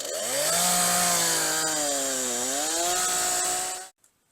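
A two-stroke chainsaw cuts into wood, its loud, close engine whine holding steady with a slowly wavering pitch for about four seconds before cutting off abruptly. No one speaks.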